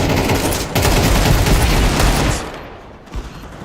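Dense, loud gunfire in a Counter-Strike 2 match, overlapping shots merging into a continuous barrage before tapering off, with a single later pop.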